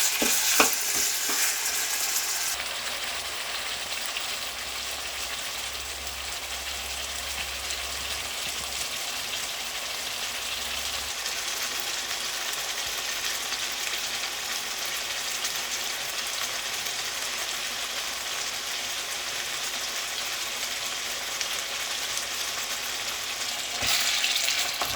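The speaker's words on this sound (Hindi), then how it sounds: "10 मिनट के लिए हम ऐसे ही पकाएंगे, यानी कि उसको ऐसे ही भूनेंगे" Lamb meat frying in a kadahi, a continuous crackling sizzle like light rain that holds steady at moderate volume, with a low rumble early on.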